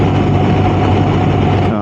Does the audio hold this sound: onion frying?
no